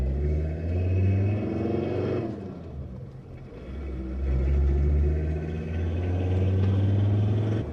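A 1996 non-turbo 2.4 car with small blows in its standard exhaust idles and revs, a steady low engine rumble swelling and dipping, loud and close, with no voices.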